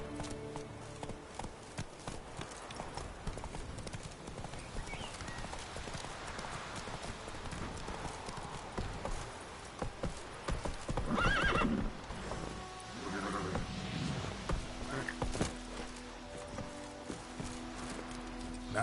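Roach, the horse from The Witcher 3, gallops with a steady, rapid clip-clop of hooves throughout and gives a loud neigh near the middle.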